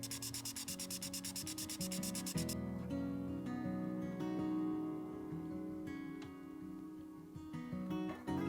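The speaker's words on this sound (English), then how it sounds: "After a quick clean-up with some emery paper, the finish of the pantograph looks good" A brass pantograph is rubbed down by hand with emery paper, giving close, rhythmic rasping strokes, quick and regular at first, then slower, uneven scrubbing with a few sharp metallic ticks.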